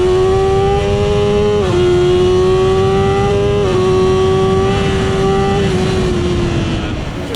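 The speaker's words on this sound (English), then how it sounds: "It's a lovely little motorcycle." A BMW M 1000 RR superbike engine holds a loud, steady high rev close by, with the pitch dipping briefly a couple of times before easing off slightly at the end.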